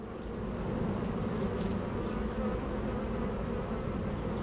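Honey bees from an open hive being inspected on a June day give a dense, continuous buzz, loud and close, holding steady throughout with no voices.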